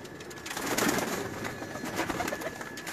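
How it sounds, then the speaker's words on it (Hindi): Teddy pigeons coo softly among other birds in a Lahore loft, the low murmuring calls overlapping steadily against background hiss and bustle. "टैडी कबूतर भी दिखाते हैं जी"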